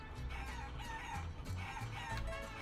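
A chicken in the video game Guacamelee clucks and crows repeatedly in a quiet, game-styled loop over a busy background, with no talking.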